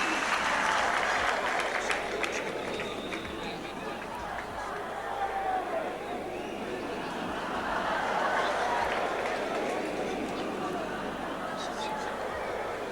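Football crowd applauding at a 1981 UEFA Cup match between Aberdeen and Ipswich Town, a broad steady roar of clapping and cheering from a large stadium audience that fills the whole stretch with faint laughter mixed in.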